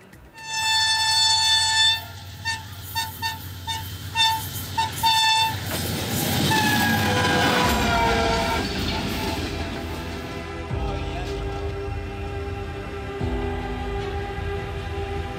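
Trains at a railway station rumble and clatter loudly while high horn toots sound repeatedly at the start, then the rolling noise settles into a long, steady drone.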